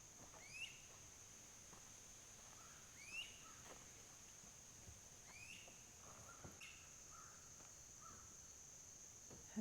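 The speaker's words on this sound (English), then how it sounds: "And there's also a crow." A crow caws several times at intervals, faint and distant outdoors on rural property, over a quiet background hum.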